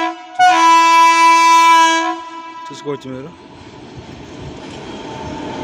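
A goods locomotive sounds a long, loud steady horn blast for about two seconds as it arrives at Brahmapur railway station, followed by rumbling train noise. Someone speaks briefly near the end.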